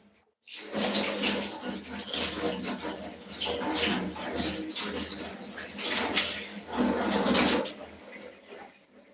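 Running tap water splashes onto hands in a home kitchen after cooking, a steady broadband spray lasting several seconds with slight surges and dips, close and fairly loud, then cutting off near the end.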